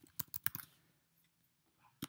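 Computer keyboard typing in a document, a quick burst of close, crisp key clicks at the start, then a pause and one last sharp keystroke at the end, in a quiet room.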